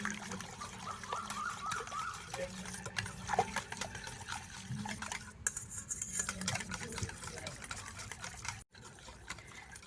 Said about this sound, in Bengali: তো সব কিছু কিন্তু একটু ভালো করে ফেটিয়ে নিতে হবে।